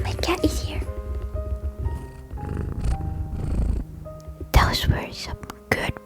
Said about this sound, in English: Those were some good purrs.